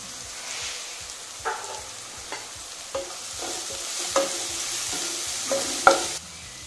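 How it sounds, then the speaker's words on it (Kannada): Fresh chopped ginger frying in a pan over a medium flame, a steady sizzle with periodic scraping stirs of a spatula, close and continuous with no talk. "ಮೀಡಿಯಂ ಫ್ಲೇಮಲ್ಲಿ ಹುರಿತಾ ಇರೋದು."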